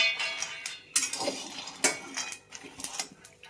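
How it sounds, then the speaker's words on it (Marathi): Peanuts being dry-roasted in a pan, with scattered metallic clinks and scraping as they are stirred, irregular bursts close by and quiet in between, no voices. "आता शेंगदाणे भाजून घेते मी"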